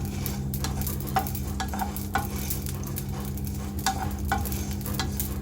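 Whole spices for biryani masala dry-roasting in a pan, with a soft steady sizzle and repeated scraping taps of a spoon stirring them, close up with no talking.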